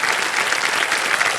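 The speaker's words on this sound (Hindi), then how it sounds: "तालियां बज जाए इनके लिए।" A studio audience on a televised quiz show applauds, a dense, even patter of many hands clapping at close range, sustained and loud throughout the short stretch.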